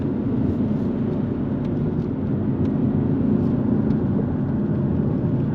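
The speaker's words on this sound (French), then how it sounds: "la sonorité du 4 cylindres, qui est vraiment très bien, avec des petits retours à l'échappement" A Jaguar F-Type 2.0 four-cylinder with a sport exhaust gives a steady, loud, close engine drone with a dense low rumble. Faint faster ticks near the exhaust fit small pops, and no voices are heard.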